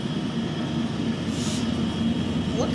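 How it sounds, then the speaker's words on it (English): A long Union Pacific double-stack freight train rolls past up close, giving a steady, loud rumble of wheels on rail throughout, with a brief hiss partway through. "That's a long double stack train."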